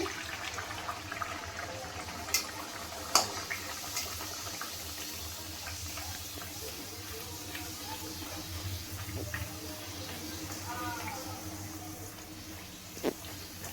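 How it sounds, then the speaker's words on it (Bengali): Dal puri fries in hot oil, a faint, steady sizzling hiss with scattered small pops and crackles. "তেলটা ভালোভাবে গরম হয়ে গেছে, এবার আমি ডালপুরিগুলো ভেজে দেবো।"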